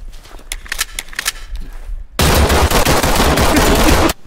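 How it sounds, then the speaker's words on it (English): A G19 pistol is fired in the tactical police shooter Ready or Not: several quick sharp shots ring out in a short series, followed by a loud, dense two-second burst of continuous gunfire that cuts off abruptly, with no voices. "I can shoot outside of the range. The G19."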